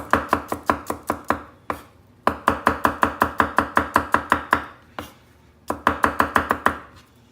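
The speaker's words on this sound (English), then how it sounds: "cloves of garlic, which I have peeled already. And we'll chop this up." Knife chopping peeled garlic cloves on a cutting board, loud, close, rapid even strokes in three bursts separated by short pauses, no talking.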